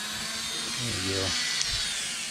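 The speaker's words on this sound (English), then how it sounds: "So anyway, this Dremel tool, you can adjust the speed." Dremel rotary tool powered through a Variac, its motor whining up and down in pitch as the speed changes, running steadily and close over a constant background hum.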